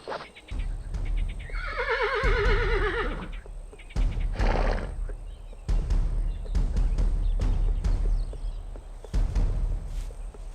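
A horse lets out a loud, wavering whinny close by, with hoof steps and clops sounding before and after it.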